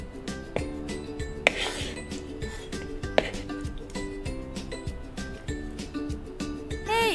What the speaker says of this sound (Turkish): Yeniden karıştırmaya devam.